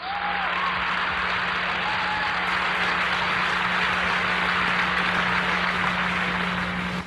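A church congregation applauding during a sermon, a dense, even wash of many hands clapping that continues steadily for several seconds without pause.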